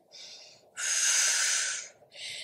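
Breathing during a hip-strengthening stretch exercise: a short nasal breath, then a long loud inhale through the nose lasting over a second, and another brief breath after, close to the microphone.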